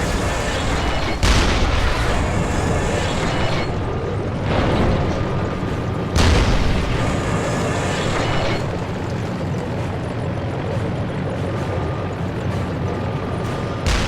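Tank firing in a video game: two heavy cannon booms about five seconds apart, with smaller thumps between them, over a continuous loud rumbling engine and battle din.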